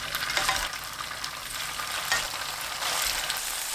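Tofu pan-fries in cooking oil over medium heat, making a steady close sizzle with a few brief surges of crackling and no speech.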